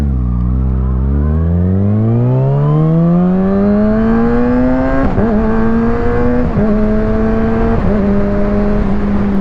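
A Kawasaki Ninja ZX-6R inline four-cylinder supersport motorcycle revs hard, its engine climbing steadily in a loud rising scream, then holding high with brief dips at each gear change, close and continuous with no talking.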